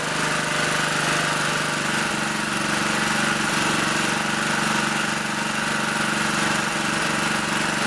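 A generator bought at auction idles with its idle stop screw turned all the way in, a loud, steady, close engine drone with a constant buzzing vibration throughout.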